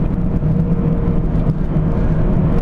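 A 1999 Mazda Miata NB engine drones steadily at close range as the driver drops down a gear, a continuous low engine rumble with a slight dip in the middle and no talking over it.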